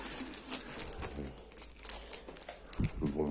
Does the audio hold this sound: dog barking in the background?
no